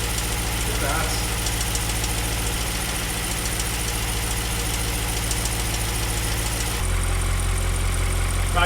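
An Audi RS6 engine idles with a leaking exhaust, a loud, close, steady rumble with rhythmic ticking and spitting pulses, the tone shifting slightly near the end, while a person talks over it.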